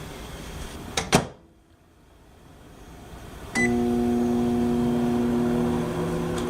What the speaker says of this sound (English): I'm going to put it on a plate and put it into the microwave.